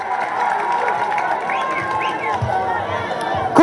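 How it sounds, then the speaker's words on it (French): Crowd at a political rally in Haiti for Jude Celestin, with steady cheering, shouting and clapping that holds at a constant level throughout, voices blending into a dense roar with a few louder bursts near the end. "Mandez pour nous applaudir, s'il vous plaît."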